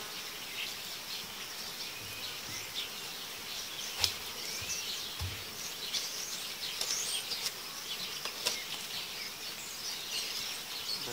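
Honey bees buzz in a dense, close swarm as they are brushed off a hive frame, with sharp brushing scrapes and faint bird calls over the constant hum.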